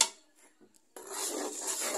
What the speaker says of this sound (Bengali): মশলা অনেকক্ষণ ধরে কষিয়ে দেবো